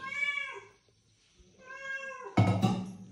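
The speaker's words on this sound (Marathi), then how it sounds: "दुसरी मांजर होती" A cat meows twice in clear, drawn-out cries with a short pause between them, then a louder, rougher burst of sound follows at the end. It is close and quiet overall, with no talking.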